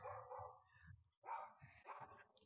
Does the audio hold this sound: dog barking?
yes